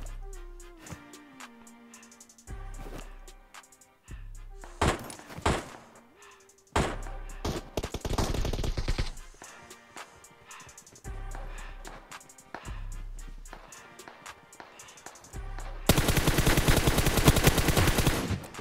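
Bursts of gunfire in the PUBG Mobile battle royale game on the Sanhok map, scattered shots over music-like game audio, ending in a loud sustained stretch of rapid fire.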